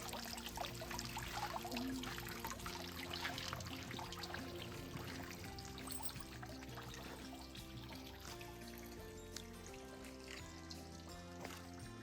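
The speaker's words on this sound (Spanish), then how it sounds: "Aquí en el centro del claustro está la fuente, que es del siglo XVI." Sixteenth-century stone fountain in the middle of a cloister courtyard in Cáceres, Spain, trickling and splashing steadily at a distance beneath a faint hum of background sound, with no voices.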